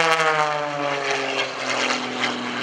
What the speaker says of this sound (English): He just loves to take this airplane straight up.